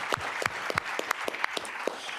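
Clapping from an audience honoring a conscious capitalism panel, steady sharp claps repeating in a quick rhythm throughout, moderately close and without voices.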